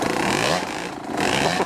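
A dirt bike rides a trail with its engine roaring steadily and close, with a rough revving texture and scraping clatter throughout, and no voices.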